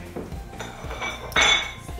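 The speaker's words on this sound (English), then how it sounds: "And then we're gonna just stir it up." Cocoa Rice Krispies being stirred in a pot for Rice Krispie treats, with clinking utensil-on-pot scrapes and rustling cereal, close and moderately loud, briefly louder scraping near the end.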